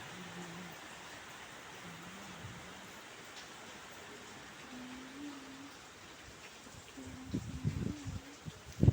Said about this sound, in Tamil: பாருங்கள் எவ்வளோ மழையாக இருக்குன்னு வெளியவே போக முடியல சரியான மழை